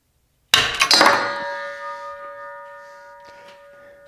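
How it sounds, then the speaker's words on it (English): Leatherman ratchet driver tab snapping under a torque wrench at around 300 inch-pounds: one sudden sharp metallic crack followed by a few quick rattles, then a clear ringing tone that slowly fades away, loud and close. "I actually broke the tab off the bottom of the ratchet that goes into the Leatherman."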